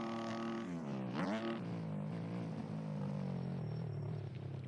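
Dirt bike engine in the motocross game MX Bikes, revving high then dropping sharply as the rider downshifts, settling into a lower steady rumble as the bike rolls on, close and loud with no talk.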